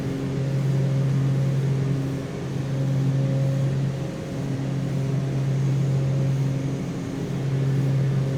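Aircraft engine drone from Microsoft Flight Simulator, a loud steady tonal hum that swells and eases in slow cycles, continuous with no voices over it.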